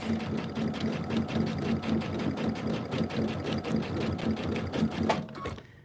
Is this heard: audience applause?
no